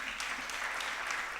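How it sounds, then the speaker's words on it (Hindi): A faint audience claps softly and steadily at a Guru Purnima festival gathering after a singer's performance, the patter thin and distant. "तालियां तो बजा दो।"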